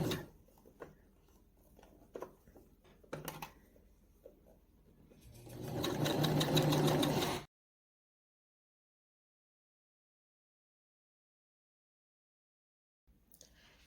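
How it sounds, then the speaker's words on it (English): Sewing machine stitching a double turned sleeve hem on a pleated dress, a short steady whirring run after some light handling clicks, then silence. "just stitch your double turned hem."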